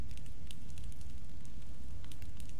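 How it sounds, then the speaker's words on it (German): A campfire in the survival video game The Forest crackles and pops steadily at low volume, sharp snaps scattered over a soft, continuous rushing hiss, with no voices. "Mehr Feuer!"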